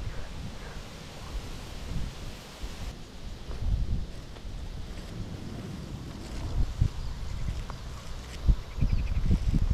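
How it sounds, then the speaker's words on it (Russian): Strong wind gusts into the microphone beside a power plant cooling lake, a buffeting, uneven rumble that swells and fades in irregular surges with no other clear sounds. "Ветер, правда, сильный, прям в лицо дует."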